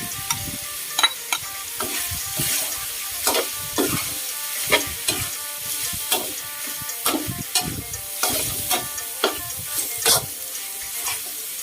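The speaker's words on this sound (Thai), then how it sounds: "เราจะนำลูกชิ้นใส่ลงไปเลยค่ะ แล้วผัดคนไปคนมาให้ทุกอย่างเข้ากันค่ะ" Pork meatballs stir-fried with curry paste and minced pork in a pan: a steady sizzle under rhythmic scraping and stirring strokes that repeat through the whole stretch.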